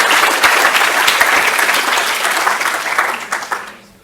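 Loud, dense applause from a conference audience welcoming a speaker at a student science symposium, steady clapping filling the room before tapering off at the end.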